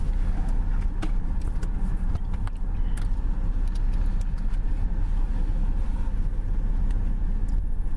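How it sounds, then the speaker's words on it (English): A car is underway in a played recording, a steady low engine and road rumble running throughout with a few faint clicks and jangles on top, and no clear voices. "So it sounds like they're driving."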